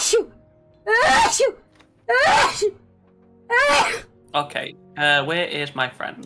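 Someone sneezes during a Sea of Thieves game session in a few sharp, breathy bursts spaced about a second apart. Close-up talk follows right after.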